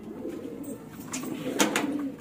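Pigeons coo steadily in a loft, a soft low burbling that swells slightly louder near the end, with a few faint sharper bird sounds mixed in.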